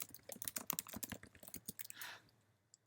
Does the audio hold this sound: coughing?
no